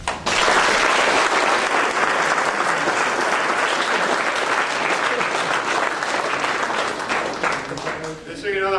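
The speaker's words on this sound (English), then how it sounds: "it wasn't a loud enough round of applause for opening ceremonies" A crowd at an auto show opening ceremony bursts into loud, sustained applause, dense clapping that fills the room and tapers off toward the end.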